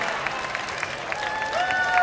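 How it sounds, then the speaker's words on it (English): Crowd applause at the Mr Belly 2013 belly flop contest as a swimmer climbs out of the pool, a steady wash of clapping with light cheering that swells slightly toward the end. "Give Rob a big round of applause as he makes his way out of the pool"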